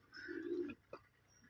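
Pigeons at a breeding loft in hot weather coo with a single soft, throaty roll lasting about half a second, followed by a short low note and quiet background.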